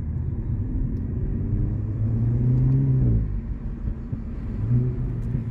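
Inside a Renault Megane 4 RS Phase 2 with 300 hp, the engine drones and rises under acceleration, muffled and fairly subdued, with a brief shift in pitch midway before pulling again.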